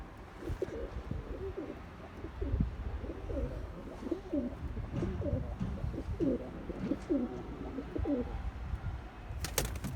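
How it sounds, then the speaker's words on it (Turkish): Pigeons coo outdoors in a run of soft, repeated low calls, set against a steady background of low outdoor rumble. "Evet kuşlarımız dışarıda"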